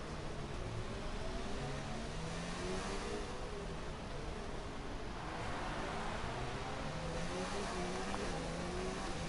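Engine of a McLaren car in an F1 racing video game, heard from the cockpit at Abu Dhabi: a steady, continuous drone with rising and falling pitch as it shifts gears, loud and filling the whole stretch without talk.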